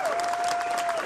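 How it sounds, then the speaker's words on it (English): Brief burst of steady applause from a gathered audience, moderately loud and even throughout, with a thin tone running underneath. "Give yourself a round of applause."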